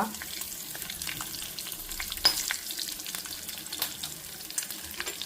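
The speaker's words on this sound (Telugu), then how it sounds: "ఇది కొంచెం వేగాలన్నమాట పప్పులన్నీ కూడా కలర్ చేంజ్ అయిపోవాలి ఎండుమిరపకాయలు కొంచెం కలర్ చేంజ్ అవ్వాలి" Green and dried chillies, asafoetida and lentils fry in hot oil with a continuous close sizzle and crackle and a few louder pops and stirring sounds, with no speech.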